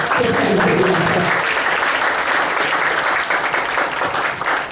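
An audience at a sales training session gives a warm round of applause, dense continuous clapping held steady for several seconds, with a voice briefly over the opening moments.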